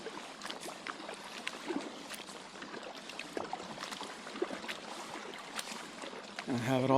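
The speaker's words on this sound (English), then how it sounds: "Nothing but the sounds of the water." Gentle lapping and dripping water around a kayak on open water, a faint continuous patter of small splashes close by, with a voice starting at the very end.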